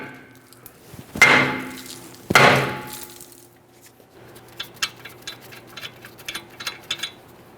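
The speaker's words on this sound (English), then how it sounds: "If this is stuck in place, you can carefully tap on it with a hammer." Hammer striking a stuck rear brake rotor on a 2013-2020 Ford Fusion, two sharp ringing metallic hits about a second apart, then a run of lighter, quicker taps, close and clear with no talk.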